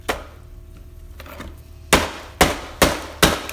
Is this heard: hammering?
yes